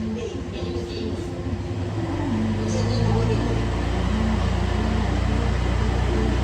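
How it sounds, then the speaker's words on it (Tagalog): A Honda Click 125 V4 Smart Edition scooter engine idling at a traffic light, a steady low hum that grows slightly louder and holds even, with traffic noise around it. "Mag-idle lang ang makina."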